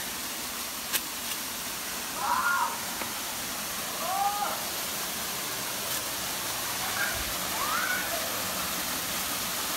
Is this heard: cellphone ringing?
no